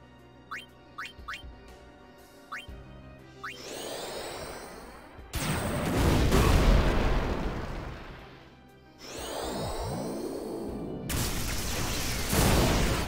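In a Final Fantasy X battle against Seymour, a single shot kills an enemy, heard as a loud blast with a whooshing burst, a sustained crash, and then another explosive hit after a few chimes and effects.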